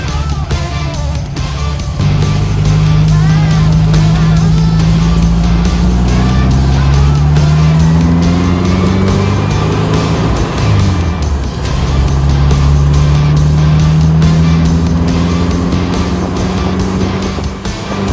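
A Volkswagen-based dune buggy with a modern chassis is heard up close while being driven, its engine droning loudly and rising in pitch as it accelerates through the gears, with brief dips at each gear change.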